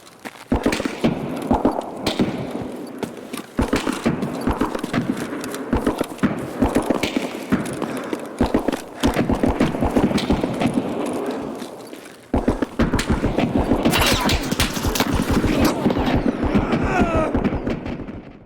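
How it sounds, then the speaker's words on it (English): Rapid, loud gunfire in a first-person shooter raid on the Customs map, dense bursts of shots and impacts packed closely together with short pauses, near and sustained throughout. "I saw the flashes from up where he was shooting"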